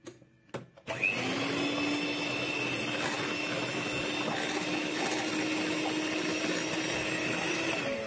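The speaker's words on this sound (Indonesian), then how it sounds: "kemudian dimix dengan kecepatan paling rendah sebentar" An electric hand mixer whirs steadily at its lowest speed through brownie batter, a continuous close motor hum that starts abruptly after a couple of brief clicks and runs unbroken to the end.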